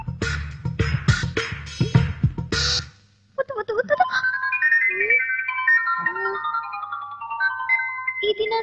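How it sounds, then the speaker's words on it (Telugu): A mobile phone plays a melodic ringtone, steady and fairly loud, right after a burst of speech; a few brief vocal sounds break through as the tune continues. "ఇది నా సెల్ రింగ్ టోన్నా లేదే?"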